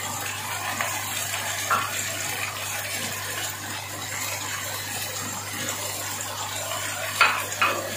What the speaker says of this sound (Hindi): आधा गिलास पानी डाल के हम इसको गलने रख देंगे चिकन को